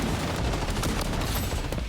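Dense, continuous gunfire from the shooter game Blood Strike, a steady wash of overlapping shots and bursts at constant loudness with no gaps, heard alone throughout.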